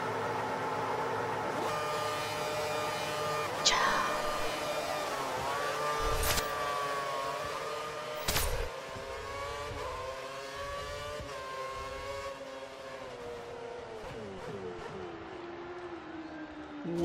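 Race cars starting a race in a racing video game at a German round, several engines revving and climbing together in pitch, with a couple of sharp bangs cutting through the steady roar.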